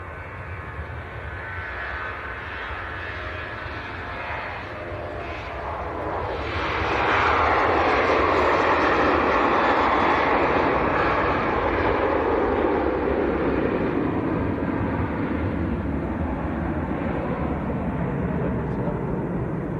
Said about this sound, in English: So that was Ryanair to Limoges, blasting out.